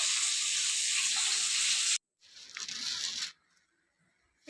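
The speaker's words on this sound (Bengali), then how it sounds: "এই যে এখন এখানে মাছগুলো ভাজা হচ্ছে" Fish frying in a pan gives a bright, hissing sizzle that stops abruptly, returns more faintly, and then drops away to near silence.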